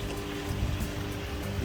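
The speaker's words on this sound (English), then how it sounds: "And then the waterfall" A waterfall splashes in a constant broadband rush, moderately close and steady with no voices over it.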